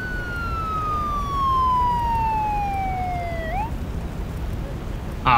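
A fire engine siren in the police video game Beat Cop sounds a single long descending wail that cuts off abruptly, under a steady low rumble of background noise.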